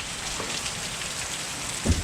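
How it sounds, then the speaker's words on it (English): Hail falls on a desert trail in Arizona, making a steady, close hiss of pattering ice with a louder thud near the end, with no voices present. "if you look closely, it is hailing"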